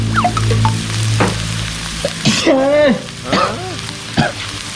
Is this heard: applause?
no